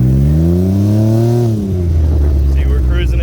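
A Can-Am Ryker three-wheel motorcycle cruising steadily at about 20 mph in a straight line, its engine droning loud and close with a slight dip in pitch midway.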